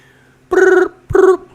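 A telephone rings twice, two loud close electronic trills of about a third of a second each, separated by a short gap, with no talk over them.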